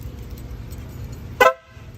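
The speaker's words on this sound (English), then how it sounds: "an air horn." A short, loud blast of an aftermarket car air horn, wired into the factory horn circuit as part of an anti-theft install, sounds once over a low idling hum and then cuts off sharply.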